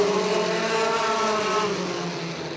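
SpeedSTR sprint cars racing at Grandview Speedway, a loud sustained engine roar from several cars passing close, steady and droning with no talk.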